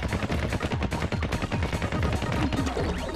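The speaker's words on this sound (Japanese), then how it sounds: "ロボット爆発させて、" Robots blow up in a video game battle. Rapid, loud, closely spaced blasts crackle in a dense, continuous barrage, sounding much like sustained gunfire.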